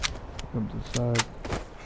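Sharp, rapid gunshot bursts from enemies in the video game Fallout 76 crack in quick succession, with a person talking in between.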